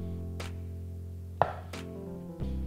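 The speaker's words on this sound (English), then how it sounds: "I'm gonna cut this sausage, and this is cooked, smoked sausage, it's kielbasa." A knife chops cooked smoked kielbasa sausage on a cutting board, three or four sharp, distinct cuts spaced apart over a steady low kitchen hum, close and fairly quiet, with no talking.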